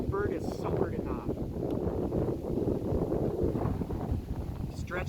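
Gusty wind buffets the microphone outdoors while an old Sleek Streek kite is readied, a loud rumbling roar that surges unevenly throughout as someone talks over it.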